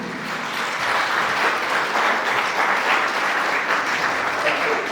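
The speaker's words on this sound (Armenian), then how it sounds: "եվս մեկ անգամ ջերմ ծափարում եք" Concert audience at a solo performance breaking into warm applause, a dense, even wash of many hands clapping that holds steady and loud throughout.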